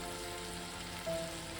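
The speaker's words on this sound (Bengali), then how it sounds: "ভালো করে মশলাটা কষিয়ে নেব" Cumin and coriander powder with turmeric fry in a pan for a fasha fish curry, giving a steady, even sizzle that stays constant throughout with a faint tonal hum underneath.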